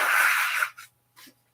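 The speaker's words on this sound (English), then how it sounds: "I've just got to sneeze, guys, too, by the way" A person sneezes once, a loud breathy burst that fades, followed by a couple of short softer sniffs or exhales.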